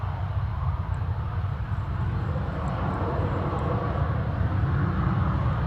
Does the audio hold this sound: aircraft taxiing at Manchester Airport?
yes